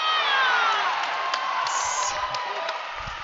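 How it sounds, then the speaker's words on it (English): Spectators at a provincial lead and top rope climbing finals cheer and shout across a steady wash of crowd noise, loud and sustained, with a few sharper whoops rising above it as an athlete makes a dynamic move. "Crowd is excited for that."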